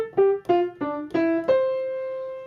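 Short jazz line of about six plucked notes played in straight, even eighths, evenly spaced and ending on a sustained ringing note, close and solo with no talking.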